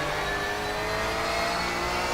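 A race car engine in the iRacing sim at Watkins Glen holds a steady, loud, buzzing drone as the throttle is picked up on corner exit, continuous and without talk.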